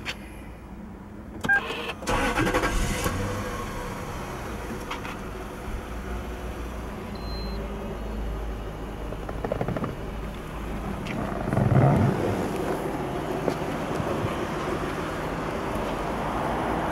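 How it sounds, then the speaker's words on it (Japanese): A 2008 Toyota Crown Majesta 4.3 C-Type with 124,500 km starts up: a brief cranking burst, then a smooth, quiet, steady idle continues, with a slight swell in engine noise near the end. "エンジンをかけてみます。"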